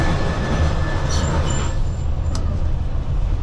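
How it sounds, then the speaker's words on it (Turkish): A San Francisco tram passes alongside on a narrow city street, a steady loud rumble of wheels and rolling stock with brief high squeals, close by and continuous, with no talking. "Şu anda yanımda tramvay."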